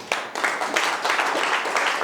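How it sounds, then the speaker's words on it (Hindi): A live audience claps to welcome a speaker onto a stage, a dense, loud burst of applause that keeps going for the whole moment. "मुझे आप लोगों की जोरदार तालियां चाहिए उन्हें मंच पे बुलाने के लिए"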